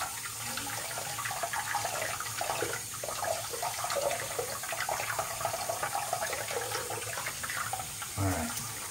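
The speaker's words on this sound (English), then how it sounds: "so I can give it good rinse like this, back and forth and sink" A safety razor rinsed back and forth under running water in a sink, a steady splashing flow with faint clinks, heard up close and fairly quiet.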